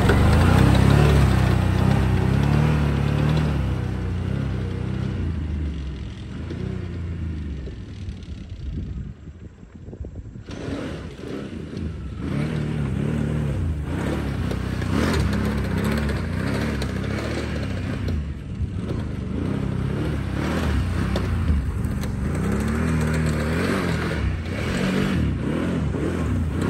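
Can-Am Renegade XMR 1000 ATV engine while riding outdoors, a continuous mid-pitched roar that surges and eases with throttle changes, buffeted by heavy wind noise on the microphone.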